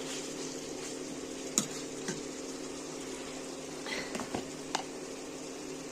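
Chicken frying in a pan gives a steady, close sizzle with a constant hiss, broken by a few soft clinks and stirring scrapes. No one speaks.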